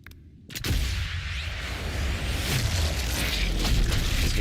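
Video game gunfire, a sharp close shot followed by a loud, sustained rumbling boom and noisy reverberation that fills the rest of the clip without speech.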